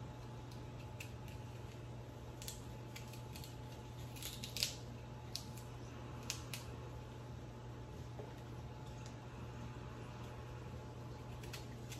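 A knife slices the tip off a pear being prepared for canning, giving a few faint, crisp cuts around the middle of the span over a steady low room hum.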